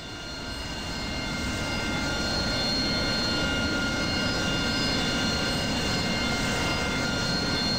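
Steady, loud engine roar of an AV-8B Harrier jet in the DCS flight simulator, a continuous broadband rumble with faint whining tones above it, building slightly at the start and then holding constant with no talk.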